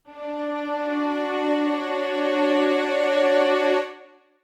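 Session Strings software string ensemble with legato switched off, a sustained bowed chord phrase with rich harmonics holding steady for about four seconds before releasing cleanly, played alone.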